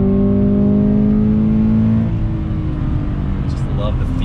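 2020 Toyota 86 Hakone Edition engine pulling on throttle through a set of bends, a loud steady drone heard from inside the cabin that eases off partway through, with a voice talking over it.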